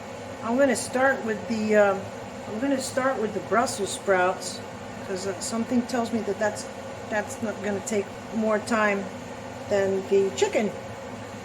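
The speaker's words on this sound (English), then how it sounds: "Sorry about the noise. I have the fan going." A kitchen fan hums steadily in the background, a constant broadband whoosh running beneath someone talking close up throughout.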